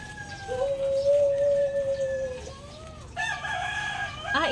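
Roosters crow loudly nearby in a backyard where chickens are kept, long drawn calls rising and falling over several seconds, with clucking and another crow breaking in near the end.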